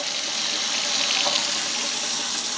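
Tap water runs steadily through newly installed PEX plumbing with crimped copper fittings in an old house, a continuous broadband hiss and splash that stays even and close with no talking.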